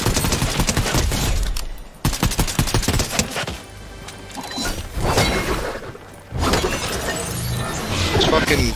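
Video game gunfire rattles in loud, dense bursts of rapid shots, breaking off briefly and then resuming, with players talking over the shooting.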